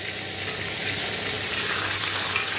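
Eggs sizzling in a frying pan in a home kitchen early in the morning, a constant close crackle and hiss with a faint scrape or two near the end, no voices.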